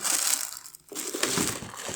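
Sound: plastic bag packaging of a charger being crinkled

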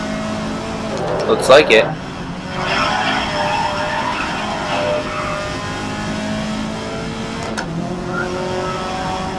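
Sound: race cars accelerating, overtaking a Ford in video game GRID 2019

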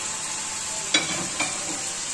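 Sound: onions added to hot oil, frying

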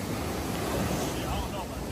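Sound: ocean waves at Shark Bay beach, Hawaii

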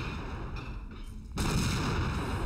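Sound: explosions in a video game

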